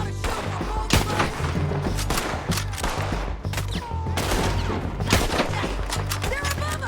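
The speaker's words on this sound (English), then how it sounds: "I gotta shoot for both of us!" Gunfire in the video game Red Dead Redemption 2: rapid bursts of sharp, loud shots crackling in an uneven fusillade, with shouting voices over the shooting.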